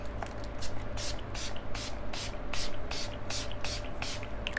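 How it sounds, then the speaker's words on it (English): A makeup setting mist spray bottle pumped in a rapid series of short hissing bursts, close by, about a dozen sprays in steady rhythm with no talking. "I'm going to go in with the Makeup Fixer Light Refreshing Mist"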